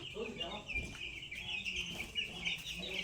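Ten-day-old Sonali chicks in a flock of about a hundred, huddled together, cheeping and peeping continuously and close by, with a voice speaking underneath.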